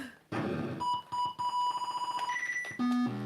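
Electronic beeps from an Odyssey 2 video game launch: a sequence of loud, clean tones at shifting pitches, some held and some in quick pulsing bursts, with no talk over them.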